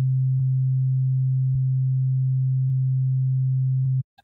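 A steady, pure low sine tone from the Serum software synthesizer, held loud and unchanging for about four seconds before cutting off abruptly, alone without other sounds.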